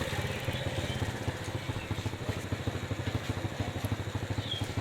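Motorbikes being ridden onto a river ferry boat, heard as a steady close engine putter with rapid chugging pulses and some clatter, loud and continuous for the whole stretch.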